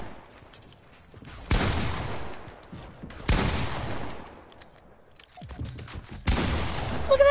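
Gunfire in an online shooter game: three loud, sharp shots land about two seconds apart, each with a decaying rumble, and a fourth shot comes near the end.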